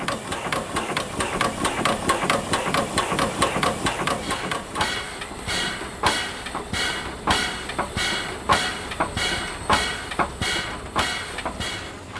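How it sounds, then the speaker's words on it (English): A steam locomotive's air compressor starting up cautiously before back pressure builds, giving a rapid run of sharp, even clanking strokes that slows into spaced, louder mechanical knocks and hisses, close and without speech. "The back pressure has yet to build up, so the compressor has to be started with caution."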